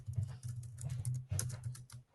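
Keys clatter on a computer keyboard in quick, uneven bursts of typing, fairly close but quiet, with soft thuds under the clicks and no talking.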